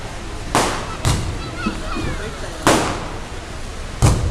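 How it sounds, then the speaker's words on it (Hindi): Fireworks pop and crackle outdoors during a public speech, with four sharp, loud bursts spread out over a low murmur of crowd noise. "ये आतिशबाजी अगर बंद हो सकती है तो बंद कर दो"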